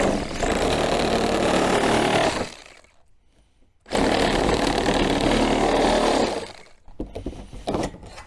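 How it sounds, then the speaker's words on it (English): A Sawzall reciprocating saw cuts slits into an IBC tote, a loud, steady buzzing run for about two seconds, a short pause, then a second long burst before it winds down, with a few faint clatters at the end. "Let me go get the Sawzall."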